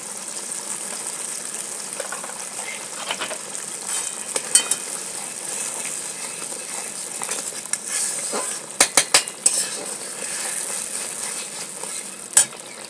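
Onions frying in a pan give a soft continuous sizzle as milk is poured in for a shol fish curry, with scattered sharp clinks and scrapes of a utensil against the pan, a quick cluster of knocks near the end.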